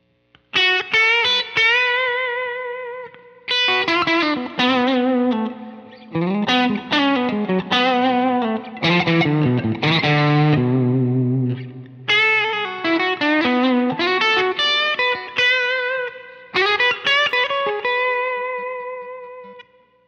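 Electric guitar played through the overdrive channel of a Welagen Overdrive Special amp, a Dumble-style amplifier, with crunchy distorted phrases and sustained notes and short pauses between bursts, loud and close with no talking.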